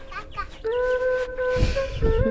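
Backyard chickens cluck and call at close range, a short burst of tonal clucks and squawks with some background rustling.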